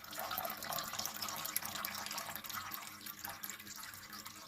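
Homemade semi-sweet grape wine runs through a tube off its sediment into a pot, a faint, steady trickle of liquid with no talk.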